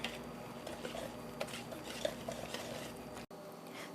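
Butter being stirred into a mixture in a bowl for puto pao, with soft scraping and light clinks of a utensil against the bowl, steady and close with no talking.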